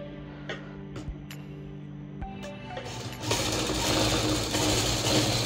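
A sewing machine stitches the side seam of a women's slip: a few isolated clicks and taps at first, then a continuous close mechanical whirr of stitching for the last couple of seconds.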